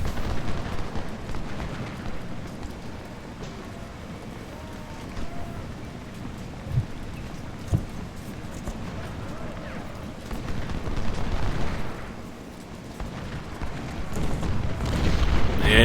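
Troops fire from a shell-cratered wood during the Battle of Shiloh in the Civil War strategy game Ultimate General, heard as a continuous rumble of distant gunfire and booms.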